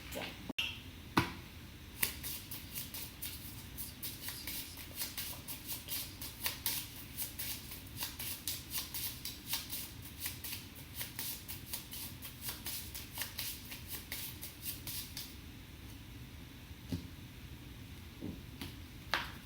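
A small deck of 32 tarot cards is shuffled by hand, giving rapid, crisp clicking and riffling that continues up close at a quiet level.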